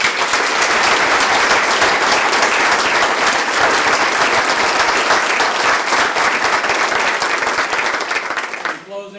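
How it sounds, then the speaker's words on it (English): Loud, sustained audience applause at a high school sports boosters Hall of Fame induction ceremony: a thick, continuous wash of many hands clapping that holds steady for several seconds before cutting off abruptly. "I'd like for the crowd to once again give a big round of applause to the class of 2010 Taylorville High School Sports Boosters Hall of Fame"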